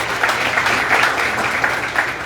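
Audience at a university conference on constitutional reform applauding, a steady mass of clapping with a few sharper individual claps standing out.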